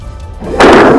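A loud burst of gunfire and blast from an attack on a compound at night, a sudden broad crashing roar that starts abruptly after quieter background rumble and sustains to the end.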